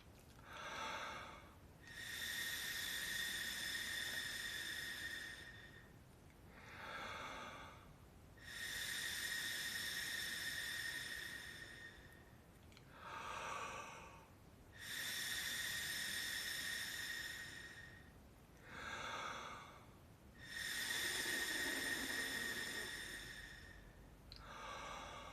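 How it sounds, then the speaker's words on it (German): Five forceful exhalations pushed through a breathing training device used for trumpet practice, each a loud, steady airy rush lasting a few seconds, separated by short quieter inhalations, all close to the microphone with no talking. "Und dann atmen wir insgesamt 5-mal durch unser Trainingsgerät aus."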